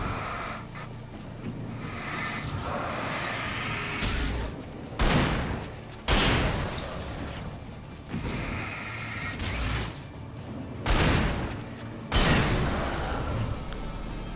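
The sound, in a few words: pump shotgun firing in the Alan Wake video game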